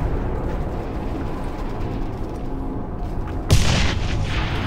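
A single heavy tank cannon blast in the Quake 4 video game, one loud booming shot with a trailing decay that erupts late over a steady low engine rumble.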